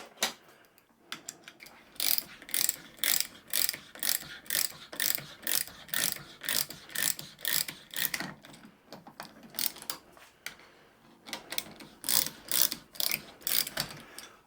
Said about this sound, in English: You always turn the reamer forwards, you never turn the reamer backwards.